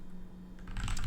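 A short burst of keystrokes on a computer keyboard, quiet and close, with the tapping growing denser toward the end.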